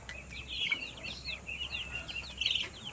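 A rooster kept with hens in a backyard gives a string of short, repeated clucks at close range. Steady low farmyard background noise sits underneath.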